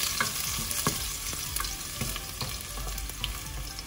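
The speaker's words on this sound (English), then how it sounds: "are going to saute garlic for 30 seconds" Garlic sautés in a hot pan, giving a steady, close crackling sizzle with the rhythmic scrape of stirring throughout and no voices.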